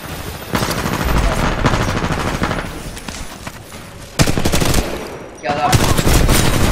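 Weapon fire in Titanfall 2 gameplay rattles in dense, loud bursts of rapid shots, broken by two brief pauses, with chaotic game sounds throughout.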